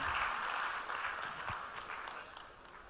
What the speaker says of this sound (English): huge round of applause for our Honorable Minister,